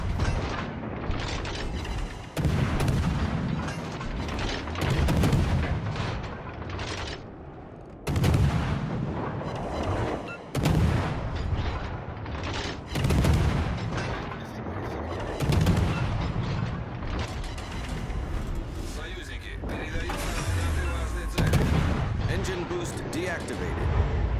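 Warships firing naval guns in World of Warships Legends, with repeated heavy booming salvos in bursts every few seconds over continuous game noise, and a voice talking over them.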